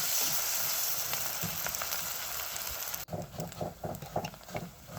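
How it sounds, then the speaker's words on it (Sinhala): Food fries and is stirred in a pan, a bright steady sizzle for a few seconds, then the sizzle drops back and rhythmic scraping stirs knock through it in quick repeated strokes, close and moderately loud. "චුට්ටක් කලවම් කරලා බැදගන්න."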